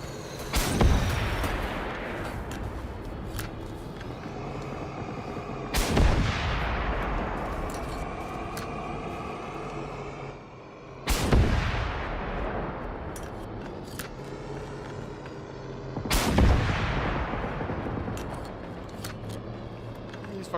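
Rocket launcher shots in the shooter game Generation Zero, four loud booming blasts spaced about five seconds apart, each trailing off into a long echoing rumble, with someone talking over the gameplay.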